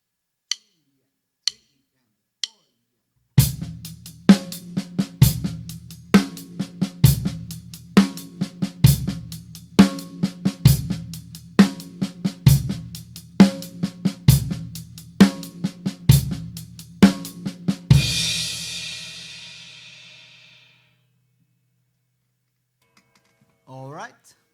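Drum kit playing a rock beat built on paradiddles, with bass drum on beats one and three: a few lone clicks on the sticks, then a steady, crisp pattern of sharp hits with low thumps, ending in a cymbal wash.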